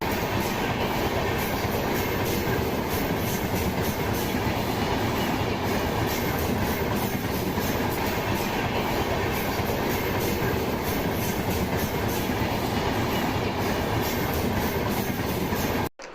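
A passenger train runs steadily along the tracks on an overnight journey, a continuous loud rumble of wheels and carriages with faint clickety-clack, sustained without pause and cutting off abruptly at the end.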